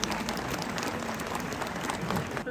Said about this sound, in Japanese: 今一度盛大な拍手をお願いします。